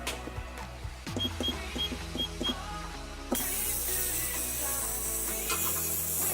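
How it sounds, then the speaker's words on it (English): Ratcheting clicks as the controls of an ultrasonic cleaner holding dirt bike parts are set, then a sudden, steady high-pitched hiss as the cleaner starts running close by. "Let's see if this ultrasonic cleaner is actually worth its salt."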